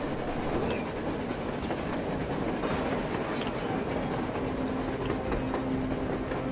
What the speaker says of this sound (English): A damn train on the surface!